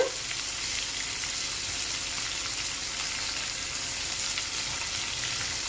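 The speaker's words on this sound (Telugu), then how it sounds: "పెద్దలపై ముక్కలు దోరగా ఎర్రగా గోల్డ్ కలర్లోకి వచ్చిందాక వేయించుకోవాలి" Onion pieces fry in oil for an egg tomato curry, a continuous even sizzle at moderate level with faint stirring, steady from start to finish and no talking.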